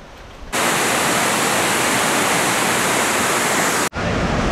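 River water rushes at Busay Falls in the Philippines: a loud, steady roar of flowing water holds from about half a second in and drops out briefly near the end, with quieter ambient noise before it starts.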